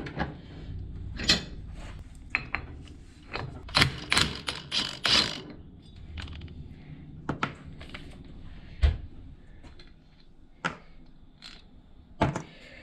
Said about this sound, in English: first thing is we've got to remove the front pulley. So just a 19mm bolt, clamp it in the vise,